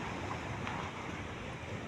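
A fishing boat passes offshore, its low engine hum blended into steady surf and wind rumble at sea, continuous and fairly loud with no speech.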